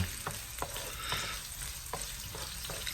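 Onion frying in oil in a pan gives a steady, close sizzle with scattered crackles and occasional stirring clicks, with no voices.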